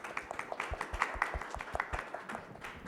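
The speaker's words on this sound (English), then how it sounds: "please give a round of applause to our three main experts" Sparse applause for panel experts at an Ethereum community conference hall, a small audience producing distinct, irregular individual claps at moderate distance rather than a dense roar.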